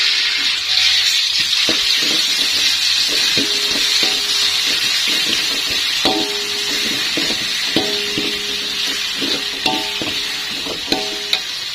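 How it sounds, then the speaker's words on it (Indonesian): Spice paste sizzles and sautés in hot oil in a pan, with a steady close crackle punctuated by light scraping and tapping from stirring utensils. "Setelah minyaknya agak panas, langsung aja kita tumis bumbunya."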